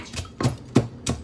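Lemongrass and Thai chili smashed by hand: four evenly spaced, dull thuds, close-up and moderately loud, with no talking.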